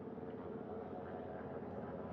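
Helicopters hover near a recovery ship's flight deck at sea, heard from the bow as a steady, fairly faint broadband engine and rotor drone that continues without breaks.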